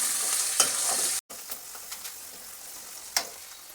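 Whole spices such as cardamom and bay leaf with salt in hot oil for a coconut milk chicken curry, first a bright close sizzle, then a brief cut and quieter frying with scattered stirring clicks.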